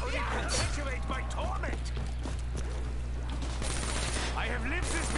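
Gunfire in the Call of Duty Black Ops III video game, scattered bursts of shots mixed with game effects while players talk over it throughout.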